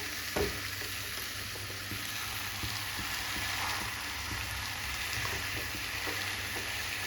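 Kadaknath chicken frying over a high flame as it is stirred, giving a steady, close sizzle with occasional soft scrapes and clicks from the pan throughout.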